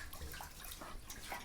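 Tap water runs steadily while rice is rinsed in a home kitchen, a close, continuous splashing wash with small irregular surges and no talk over it.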